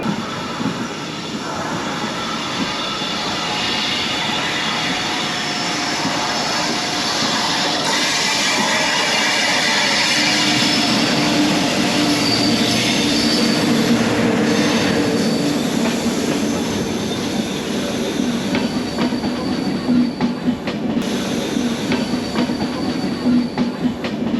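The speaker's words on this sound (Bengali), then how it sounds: "আমাদের এখন ক্রস করবে Dhanbad Ferozepur express train number one three three zero eight" Dhanbad Firozpur Express 13308 crossing alongside on the adjacent track, a sustained loud rush and rumble of rolling wagons with wheel clatter and some squealing, heard from another train, without talk.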